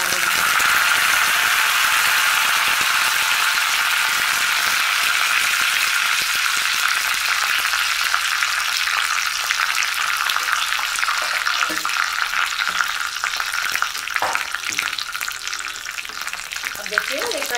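Cumin seeds and curry leaves fry in hot oil for a tempering for a chana dal and raw mango chutney, a loud, dense crackling sizzle with stirring rattles, continuous and close.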